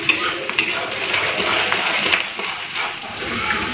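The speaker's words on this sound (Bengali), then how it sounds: "এদিকে পেঁয়াজটা একবার নেড়ে নিচ্ছি" Onions frying in a pan are stirred, giving a steady close sizzle with repeated scraping and clinking of the utensil against the pan throughout.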